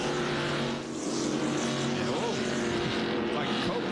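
A NASCAR Busch Series race car at Atlanta in 1997 accelerates out of the pit area, its engine roaring steadily and loudly as the revs rise and fall, with crowd and track noise underneath.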